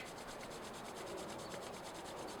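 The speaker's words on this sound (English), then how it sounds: "rub your hands until it gets nice and warm" Two hands rub briskly together to warm up, a soft, steady rhythmic friction swish repeating at an even pace, close and quiet with no talking.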